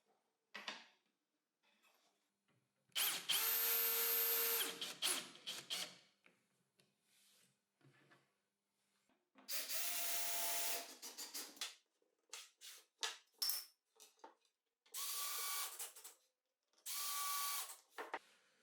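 A power drill bores screw holes into a plywood drawer bottom in four separate bursts of whirring, a few seconds apart, with quiet pauses between them.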